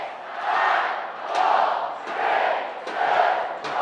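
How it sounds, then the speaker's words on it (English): Rugby league crowd at a Hull KR cup match chanting a rhythmic countdown in unison, four swelling shouts evenly spaced with sharp claps between, a large stadium roar of voices. "Crowd counting it down."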